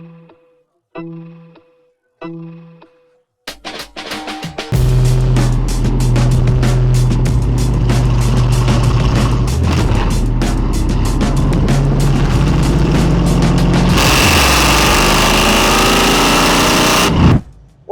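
An LS-swapped 2013 Hyundai Genesis Coupe starts after a few short cranks, then settles into a loud, close, throbbing V8 idle with a deep rumble. Near the end the revs rise sharply into a harsh roar before it cuts off.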